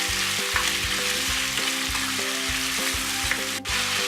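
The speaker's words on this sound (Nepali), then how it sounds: "र यसमा अलिकति नुन राखेर यसलाई म केही बेर यसरी फ्राई गर्नेछु।" Chicken pieces fry with salt in a pan, giving a steady, loud sizzle with rhythmic stirring scrapes throughout and no talking.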